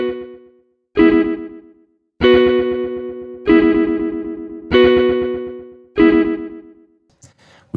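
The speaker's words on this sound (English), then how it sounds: "We have studio tape, which is modeled after the same Ampex machine, but running at 15 IPS." A studio tape delay effect modelled on an Ampex machine running at 15 IPS, set fully wet. About six loud, sustained tones arrive one after another, each starting sharply and fading away before the next repeat.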